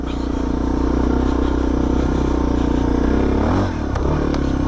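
A Suzuki DRZ400 or DR650 dirt bike engine drones steadily and loudly on a forest track near Neerim East, with a brief dip and surge of revs near the end as the front wheel lifts off a crest.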